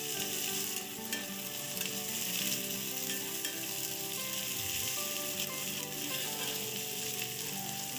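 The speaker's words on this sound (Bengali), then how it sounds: "তো এটি একটু ভাজা ভাজা হবে" Onions frying in a pan for a simple home-cooked dal dish, a steady, dense sizzle that runs loud and unbroken throughout with faint stirring scrapes and no voices.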